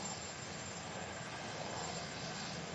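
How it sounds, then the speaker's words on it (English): Black Hawk military helicopters flying overhead near the White House, a constant dense engine and rotor roar that holds steady without pause, fairly loud, with no voices. "I hear some helicopters."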